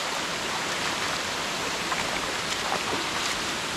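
Waterfall and river in Jamaica, a dense, steady rush of falling water, a continuous hiss with no pauses and no voices.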